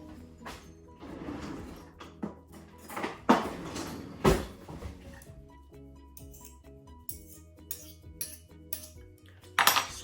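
A metal fork clinks and scrapes against plates and dishes in a quiet kitchen, with scattered sharp clinks, a few louder knocks, and pauses in between.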